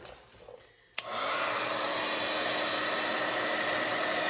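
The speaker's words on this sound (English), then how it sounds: "And now I'm gonna come through with my heat gun." A heat gun switches on abruptly after a brief quiet moment and blows a steady, loud, broadband whoosh over a geode agate resin pour art piece.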